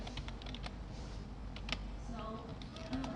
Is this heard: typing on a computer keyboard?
yes